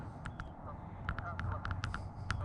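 Canada geese honk in a swamp, a series of short nasal calls at moderate distance, some in quick pairs, over a low rumbling background.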